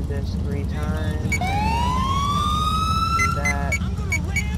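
A police car siren in GTA IV rises in a long upward sweep and holds a steady wail, over a constant engine-like rumble. It sounds loud and close and carries on for several seconds.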